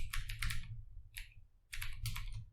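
A computer keyboard clatters as code is typed, quick clusters of close, crisp keystrokes separated by short pauses, with no talking over it.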